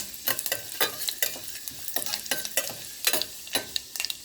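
Turmeric powder frying in a hot pan for millet upma, a close, loud sizzle broken by rhythmic scraping strokes of a spoon stirring about twice a second.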